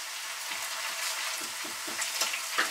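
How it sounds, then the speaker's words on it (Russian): Onion, carrot, pepper, tomato and potatoes frying in a pan, a steady close sizzle with soft crackles and occasional stirring pops throughout. "Потом добавляю я картошку, немножко тоже обжарю."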